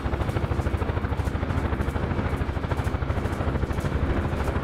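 In a VR flight game, a UH-1 helicopter's rotor beats in a fast, steady whump over a dense engine roar, loud and continuous with no talk.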